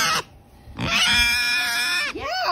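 A pet pig lets out a few loud, close squeals and grunts, the first short and sharp, then a longer, drawn-out squeal that ends in a rising grunt.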